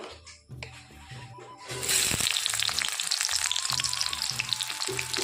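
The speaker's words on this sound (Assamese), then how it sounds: "এতিয়া মই পিঁয়াজ দি বেঙেনাখিনি ভাজি ল'ম" Onion and eggplant hit a hot pan and burst into loud, steady sizzling about two seconds in. Before that come quieter, rhythmic low knocks, and the frying hiss then carries on to the end.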